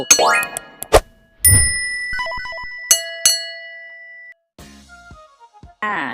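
A notification bell sound effect rings out loudly in a sequence of bright dings and chimes, with several separate struck tones and a short melodic jingle, each ringing briefly before fading.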